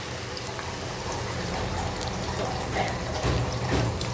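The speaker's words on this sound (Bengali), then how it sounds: "এই পেঁয়াজ বাটাটাকে তেলের মধ্যে ভেজে নিব ভালো করে" Onion paste fries in a generous amount of oil, giving a steady, close crackling hiss with a few louder spits and bubbles toward the end.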